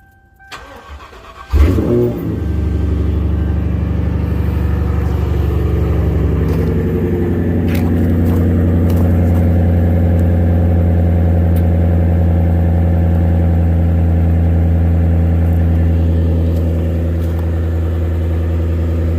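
A cold truck engine cranks briefly, catches and settles into a steady, loud, low idle that holds unchanged for the rest of the clip, with no talk over it.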